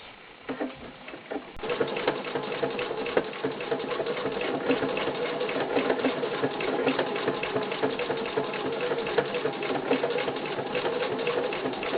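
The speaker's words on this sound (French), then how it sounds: "une dernière lettre pour vous montrer à quelle vitesse on peut coudre avec un fil métallisé" A sewing machine does free-motion quilting with metallic thread, running fast and steadily with a dense mechanical rattle for most of the stretch after a brief uneven start.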